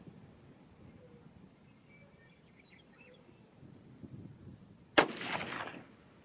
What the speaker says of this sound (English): first shot with the Nosler with varget powder.